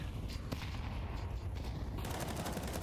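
An AWP sniper rifle fires in Counter-Strike during an ESL Pro League playoff match between MIBR and Heroic. A sharp, sudden report cuts through the dense, ongoing noise of the game.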